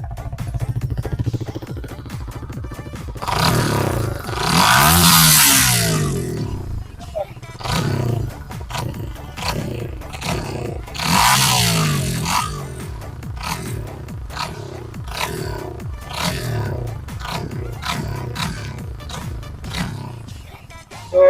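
A Yamaha R15 V3 motorcycle with a modified, cut exhaust revs hard twice with a deep raspy note, then settles into a loud rapid idle burble, with a voice talking in between.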